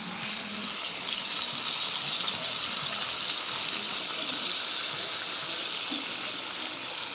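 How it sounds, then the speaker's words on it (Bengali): Water is poured into a pot of braising spiced chicken during home picnic cooking, a continuous, even hiss and splash that stays at a moderate level throughout, with no talking. "এই যে জল দিয়ে দিয়েছি, এবার মাংসটা হবে।"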